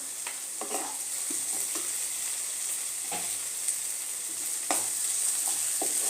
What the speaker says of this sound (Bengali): 2 মিনিট এই টমেটোটার সাথে, পেঁয়াজের সাথে টমেটোটা ভাজবো।